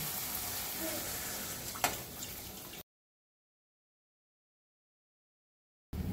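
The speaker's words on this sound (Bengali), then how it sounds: "মশলাটা কষানো হয়ে গেছে, এবারে আমি ঝোল দিয়ে দেব।" Broth poured into a hot pan of fried spice mixture gives a soft sizzling hiss and a brief splash, then the sound cuts to silence before resuming briefly.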